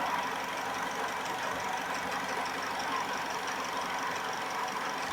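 A hot, warmed-up 2012 Chevy Malibu engine, checked for an exhaust cam position actuator solenoid fault, idles with a steady, even hum and a faint knock-like texture, continuous and unchanging with no talk.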